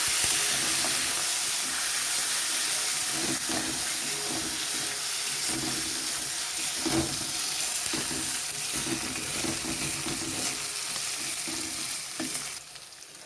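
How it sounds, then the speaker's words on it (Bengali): Steady, loud sizzling of green chili and ginger paste frying in hot oil, with occasional stirring scrapes throughout and no talking. "এবারে আমি কাঁচা লঙ্কা আর কাঁচা বাটাটা একটু ভেজে নেব"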